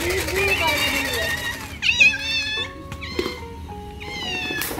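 A cat meows repeatedly in a small rented room, several distinct drawn-out meows close by, with people talking quietly in between.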